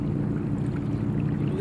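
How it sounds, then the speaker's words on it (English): A steady low motorcycle engine rumble drones continuously from about a mile away, distant and muffled, blended with wind and water noise by the sea. "That motorcycle's a mile away."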